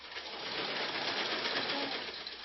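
A sewing machine runs steadily in a workshop for Afghan women, a dense continuous whirring hum with fine rapid mechanical texture, fairly close and unbroken throughout.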